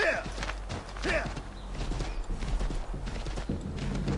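Horse hooves in the Assassin's Creed 3 video game, a rhythmic clip-clop of a horse moving at a steady pace, with occasional faint whinny-like tones in the game's background.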